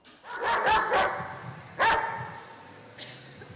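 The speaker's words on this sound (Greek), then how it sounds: "Ειδικά εκπαιδευμένοι σκύλοι ερευνούν πιθαμή προς πιθαμή τους χώρους του αεροδρομίου" Trained police dogs at an airport bark in a quick burst of several loud, close barks, then one more sharp bark and a faint yip at the end.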